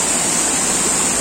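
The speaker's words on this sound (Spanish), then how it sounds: "Ahí podemos ver la caída." Main cascade of a waterfall in the La Unión neighbourhood of Chicaña, Yantzaza, roaring as steady, dense broadband water noise, close and loud, with no talk over it.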